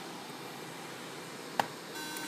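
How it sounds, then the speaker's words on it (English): A lone short electronic beep sounds from an Apple MacBook unibody logic board at power-on, faint and brief against a steady background hiss. "one single beep"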